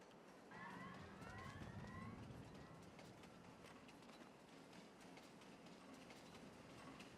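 A train in the farming game Farming Simulator 22 rolls past with a steady, loud rumble and faint squealing metallic tones, continuous throughout.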